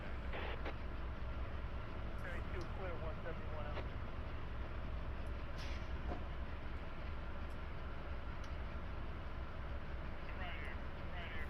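Freight train in a train simulator game rolling slowly at yard speed on Cajon Pass: continuous low rumble with faint clickety-clack and occasional squeaks and clanks, steady and moderately close.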